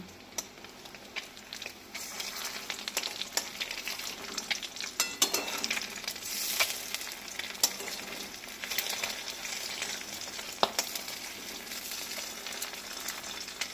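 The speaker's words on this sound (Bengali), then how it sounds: "দেখো কি সুন্দর লাল লাল করে ভাজা হচ্ছে" Eggs fry in oil in a kadai with a quiet, continuous crackling sizzle and occasional sharper pops and stirring sounds, heard close with no talk.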